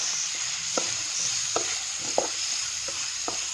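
Fried small fish with tamarind leaves and tomato being stirred in a pan, a steady sizzle broken by several sharp scraping stir strokes spaced about half a second to a second apart.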